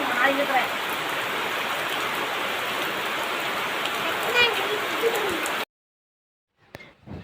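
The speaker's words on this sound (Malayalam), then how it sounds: "രാവിലെ തന്നെ നല്ല മഴയായിരുന്നു" Heavy morning rain pours down around a house with a terrace, a dense steady hiss that runs evenly for about five seconds, then cuts to silence before a brief faint rustle at the end.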